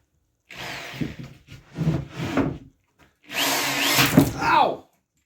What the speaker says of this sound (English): we're going to drill in until this drill bit pops out the opposite side